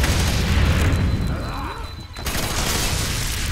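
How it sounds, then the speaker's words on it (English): A suicide bomber explodes in FEAR 3, a heavy close blast whose roar fills the whole moment, dips briefly, then swells back into a dense rumble. "Please stop suicide bombing me."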